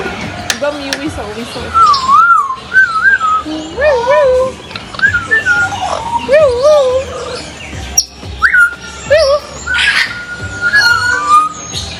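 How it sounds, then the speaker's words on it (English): A bird chirps and whistles in short, bright, rising and falling phrases, repeated at irregular intervals, loud and close, while people talk nearby. "See the bird looking at you."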